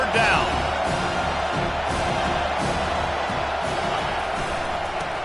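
Home crowd roaring at a Penn State college football game as the defense faces third down, a steady, loud stadium swell of cheering with a commentator's voice over it.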